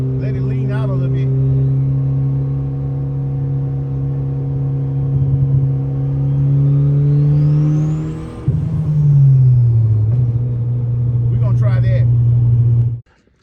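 A turbocharged Honda Civic fitted with a budget eBay turbo and running rich drives along, its engine a loud steady drone from inside the car that climbs in pitch, drops sharply at a shift, then settles before cutting off.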